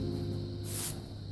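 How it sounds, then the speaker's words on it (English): Aerosol Plasti Dip sprays onto a Jeep Grand Cherokee grille in a light dusting, a short steady hiss that swells briefly and then settles, heard up close. "just do a light dusting like this, and it does go on extremely uneven when you first spray it"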